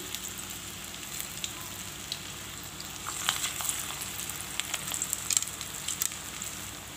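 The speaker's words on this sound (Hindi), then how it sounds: "अभी मैं इसको मीडियम फ्लेम पे पका रही हूँ।" Raw banana tikki fry in hot oil over a medium flame, a steady close sizzle and hiss with scattered bright pops and crackles growing busier partway through.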